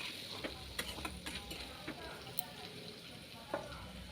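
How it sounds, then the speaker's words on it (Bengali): Chopped onion frying in oil with bay leaf, cloves, cinnamon and cardamom for a meat dish: a soft, steady sizzle with scattered clicks and spatula taps across the whole stretch. "এই যে পেঁয়াজ কুচি দিয়ে দিলাম, দিয়ে এবার পেঁয়াজটাকে আমি ভেজে নেব"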